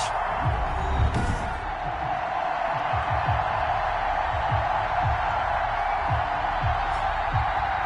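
A stadium crowd at an NFL game between the Dallas Cowboys and New York Giants gives off a broad, steady roar with scattered cheers and whoops, while a commentator speaks over it.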